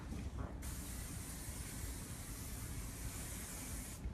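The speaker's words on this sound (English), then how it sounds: "let me spray a little bit of sheen on her." Sheen hair spray hisses in one long continuous burst lasting about three and a half seconds while curly hair is styled in a long bob, close to the mic and fairly quiet.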